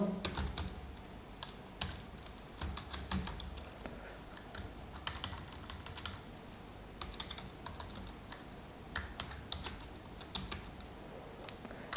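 Typing on a computer keyboard while writing C code, with steady, fairly quiet clicking and clusters of keystrokes running through the whole stretch and no talking.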